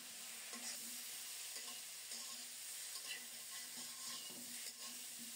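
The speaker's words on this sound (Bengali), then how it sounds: "একটু সময় নিয়ে খুব সুন্দর মতো কষিয়ে নেব।" Spice paste for a thin rohu fish curry sautéing in a pan, a quiet continuous sizzle with repeated scraping stirs at an even pace, heard alone without voices.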